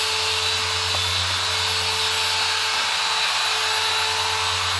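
Polishing machine buffing a Lexus taillight, a loud continuous whirring motor drone with steady hum and hiss throughout, no talking.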